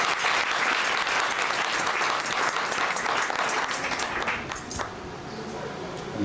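A church congregation claps steadily and loudly in dense applause that holds for several seconds, then thins and fades toward the end.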